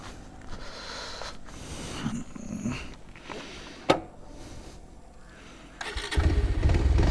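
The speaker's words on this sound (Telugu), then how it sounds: "ఇప్పుడు బండి మళ్ళీ స్టార్ట్ అయింది, చూద్దాం." A motorcycle engine fires up at the end after the petrol tap is opened, building from quieter handling noises and a sharp click into a loud, close low rumble.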